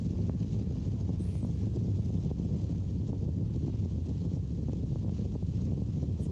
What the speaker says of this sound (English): It's real windy and shit up here too.